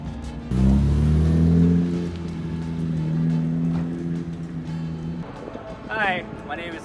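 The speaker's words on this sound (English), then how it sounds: "It's a 2000 Honda S2000. It is now supercharged with the HKS supercharger" A supercharged 2000 Honda S2000 fitted with an HKS supercharger revs loudly and steadily at close range for several seconds, its drone rising slightly before easing off, with a person talking near the end.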